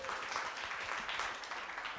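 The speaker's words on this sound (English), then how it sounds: "Let's hear it for Christine. Applause." Audience at a Silicon Valley venture capital panel applauding a professional videographer, a soft, fairly distant patter of clapping hands that holds steady for a couple of seconds.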